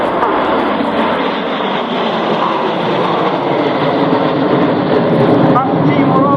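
Red Arrows jet aircraft roar loudly through the Vixen roll at the RAF Cosford Airshow 2023, a continuous heavy engine rumble while an announcer talks over it.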